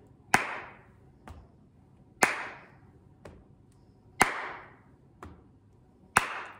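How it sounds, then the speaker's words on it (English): Hands clap sharply four times in an even, alternating pattern with softer pats on the head between them, close and clear in a quiet room. "because I did clap, pat, clap, pat, clap, pat"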